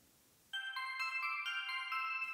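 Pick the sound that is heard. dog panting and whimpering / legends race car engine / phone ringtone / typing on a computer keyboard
phone ringtone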